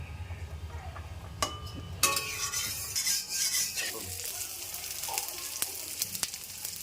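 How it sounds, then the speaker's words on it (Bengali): Potatoes frying in oil in a pan, a busy hiss of sizzling with clinks and scrapes of a utensil against the pan, louder bursts of stirring partway through, close up without speech. "এবার ওই তেলেই আলুটাকে ভেজে নিয়ে"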